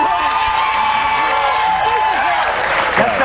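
A television studio audience applauds steadily, clapping mixed with whoops and cheers, loud and sustained for the whole stretch with voices woven through.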